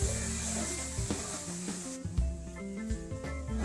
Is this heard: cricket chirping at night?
no